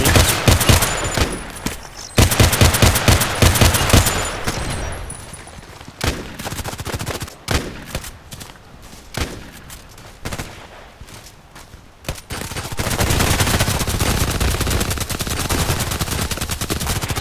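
SKS carbine fire in the shooter game Contract Wars: rapid runs of sharp, loud shots in bursts, with pauses between volleys and scattered single shots.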